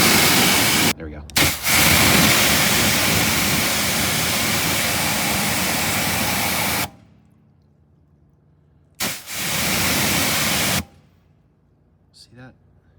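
A strong water spray rinses acid soap off a ceramic-coated car, a loud steady hiss that cuts off briefly, runs again for a few seconds, then stops.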